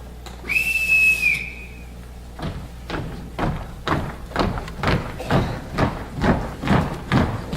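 A sharp whistle blast sounds as a signal in a Sound of Music stage play, followed by a steady run of footstep-like thumps on a stage floor.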